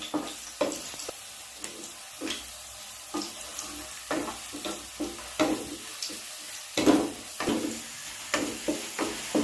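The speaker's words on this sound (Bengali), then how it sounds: "আমার খুব সুন্দর করে এখানে ভাজা হয়ে গেছে রসুন আর লঙ্কাটা।" Green chillies, garlic cloves and black cumin frying in a pan for a red amaranth dish, with repeated scrapes and clatters of stirring over a soft sizzle, in close, irregular bursts.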